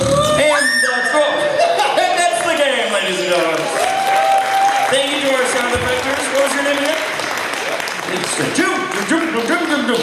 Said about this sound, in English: again, a round of applause for both of the sound effectors